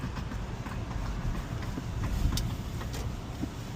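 Metallic clicking from a 17-year-old Toyota while turning, a light rapid ticking set against steady road and engine rumble, with no one talking.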